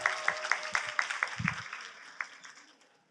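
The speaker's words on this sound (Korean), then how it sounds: "자 박수 부탁드립니다." A modest round of clapping from teachers at a Korean heritage school training session, quick claps at first that thin out and fade, with a brief low thump partway through.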